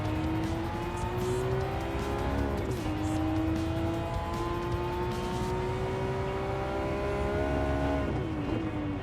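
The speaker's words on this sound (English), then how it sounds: "starting off on the straightaway, this Porsche 911 has insane acceleration" A Porsche 911 GT3 engine drones and climbs through the gears in a racing video game, a steady rising whine that dips briefly at each shift and then builds again.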